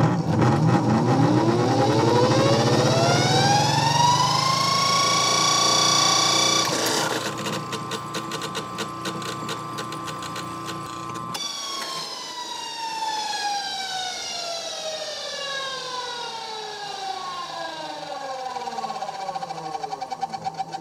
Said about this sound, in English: By moving the brushes to the left, the motor will reverse and run counterclockwise.